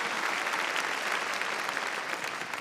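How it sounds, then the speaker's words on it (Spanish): A church congregation claps loudly in praise during a Sunday evening service, a dense continuous wash of applause lasting a few seconds without letup. "Démosle palmas fuertes a nuestro Señor"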